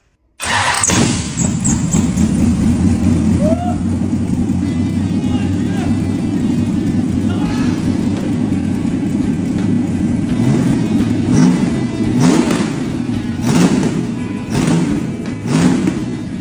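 A V8 car engine, worked on for a distributor wiring fault, bursts into life and keeps running loud and close, with a rough rumbling idle and several revving surges throughout.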